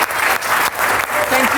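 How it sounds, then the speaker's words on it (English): Conference audience at an international school youth event giving a big round of applause, a loud, dense, sustained wash of clapping from a full room, with a voice faintly under it. "I hope you all join me in giving them a huge round of applause for coming out here"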